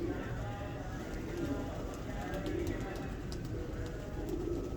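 A female pigeon just taken from a net coos softly amid steady background noise, faint and intermittent, with people talking nearby.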